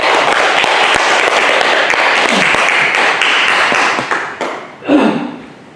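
Audience applause welcoming a guest speaker, a former middle school principal, at a Won Buddhist meditation hall in Busan; steady dense clapping that fades out toward the end with a few scattered thumps.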